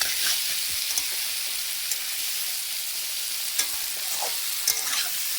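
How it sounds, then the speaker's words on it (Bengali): Fish curry with taro simmers and sizzles in a pan while a spoon stirs it, giving a steady close frying hiss broken by scattered scrapes and clinks. "এবার তরকারিটা নেড়ে চেড়ে নিলাম, ভালো করে মিশিয়ে নিচ্ছি"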